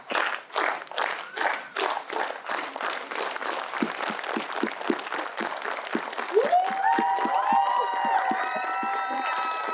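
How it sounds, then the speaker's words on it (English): An audience at a live sword-swallowing sideshow claps in unison, producing sharp, evenly spaced beats that gradually blur into looser applause, and cheers and whoops rise over the clapping toward the end. "let's start off with a rhythmic clap"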